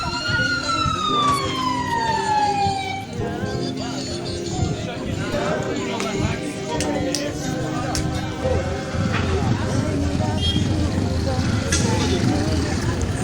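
An ambulance siren in Minembwe wails close by with a rising and falling tone for the first few seconds, then gives way to a running engine, a crowd and voices talking over the noise.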